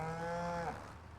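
A single cow in the farming video game Farming Simulator 25 gives one close, clear low moo lasting about a second.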